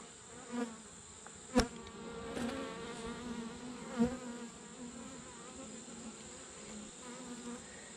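Honeybees in a hive during a late-season split inspection, a close continuous buzzing hum with a few brief knocks and clicks from handling the frames.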